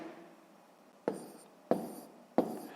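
Pen strokes of long division written by hand, three short sharp scratches spaced evenly over a quiet background, close and fairly soft.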